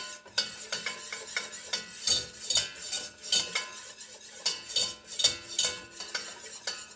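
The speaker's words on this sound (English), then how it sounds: "I'm just keeping on stirring this because I don't want it to burn." A spoon scrapes and stirs macaroni and cheese sauce in a pot over lowered heat, making a steady run of close metallic scraping and clinking strokes, with no talking.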